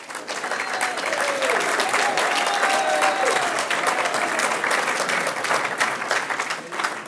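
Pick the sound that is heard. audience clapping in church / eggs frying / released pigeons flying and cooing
audience clapping in church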